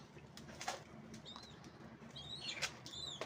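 Faint high chirps from a roughly month-old pigeon chick, a few short thin calls mixed with soft wing flutters, quiet and close.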